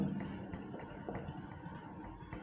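Chalk or marker writing on a classroom board during a Hindi-language grammar lesson, a steady scratchy scrawl of strokes running continuously at moderate closeness with no talk over it.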